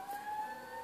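An emergency vehicle siren sounds outside, a steady wailing tone that is faint and distant, heard alone for under a second.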